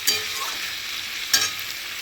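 Softened vegetables for Bengali-style khichdi are sautéed in a pan with two scraping stirs, each set against a steady background sizzle. No one speaks.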